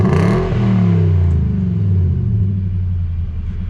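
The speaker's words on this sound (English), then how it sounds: "Give it a little rev" A Nissan Titan pickup truck, prepared for off-roading, revs its engine close by, with a loud, deep rumble rising then settling into a steady growling idle.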